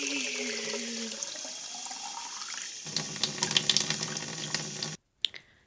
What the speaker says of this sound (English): fill your bottles up with cold water.